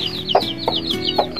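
Chicken clucking close by while being fed, a few short repeated calls with brief pauses over a steady background hum.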